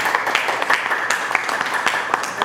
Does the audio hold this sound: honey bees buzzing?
no